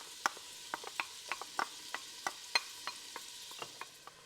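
Chopped onion sautés in a pan, with a quiet, soft crackle broken by scattered sharp taps and clicks at an irregular pace, close by, with no voices.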